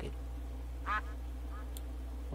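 A short burst of duck quacking in Minecraft in the middle, with a quieter second quack after it, over a steady low hum.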